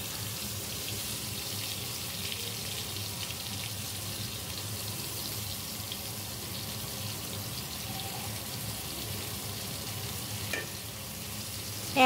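Whole spices, dried chilli, cumin seeds and a little sugar fry in hot oil for mutton, giving a steady close crackling sizzle with a faint clink near the end.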